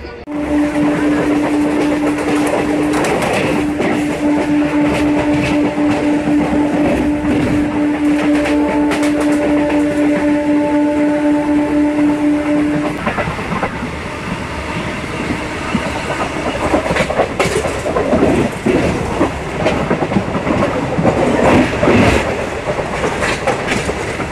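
A Bitragunta to Chennai Central MEMU Express train runs steadily with rumbling wheels and clickety-clack on the rails, loud and continuous, with a sustained tonal whine through the first half.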